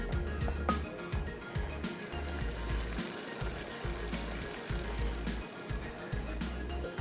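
Water is poured into cooking masala in a pan for biryani, making a continuous splashing, sizzling rush with occasional low knocks, close and steady with no talking.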